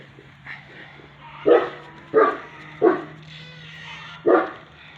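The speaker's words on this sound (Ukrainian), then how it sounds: "він як гавкне до серця у п'ятки" A dog barks four times in short sharp bursts at irregular intervals, fairly close, over a quiet background with a low steady hum.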